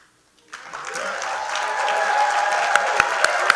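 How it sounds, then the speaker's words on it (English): Audience applause at a press conference introducing Michael Vick as head football coach, a dense, sustained burst of clapping that begins abruptly and holds steady, with a few sharper claps near the end. "the clap was good"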